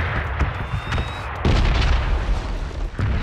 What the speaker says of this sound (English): But that corner is currently being bombed.